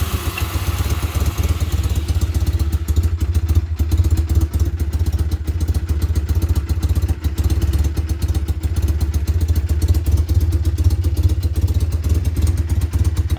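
A 1985 Honda Rebel 250 motorcycle engine idles just after a cold start. The idle is loud, close and steady, with a fast low chugging and a mechanical clatter throughout and no talking.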